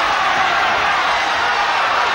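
A wrestling arena crowd roars and cheers in a dense, steady wash of noise, loud and continuous throughout.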